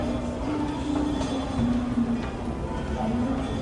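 Steady rumble of a Dubai metro train in motion, with a low droning hum and occasional faint squeals and clicks of wheels on rails throughout.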